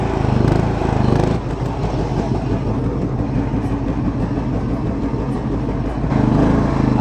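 A John Deere 175 Hydro riding lawn tractor engine runs steadily as the mower drives, giving a loud, close, rumbling drone with a pulsing low throb throughout and no talking.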